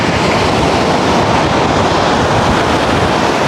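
Sea waves washing onto a sandy beach below low cliffs on the Brittany coast, a steady, loud broadband roar of surf with wind rumble, no voices.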